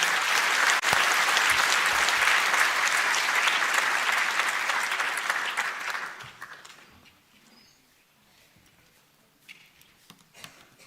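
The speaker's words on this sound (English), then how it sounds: "Another round of applause." Audience applause at a national space conference opening session, loud sustained clapping from a large hall that fades away after about six seconds into near quiet with a few scattered sounds.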